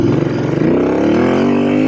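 A Royal Enfield INT 900 motorcycle on Michelin Anarchy Wild tires accelerates, a loud, near engine that gives an uneven throttle blip and then climbs in a smooth rising roar.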